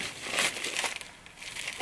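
Plastic film crinkles inside a 1000-euro Mercedes S-Class being cleaned out, a close, continuous rustling with brief louder crackles and no talk.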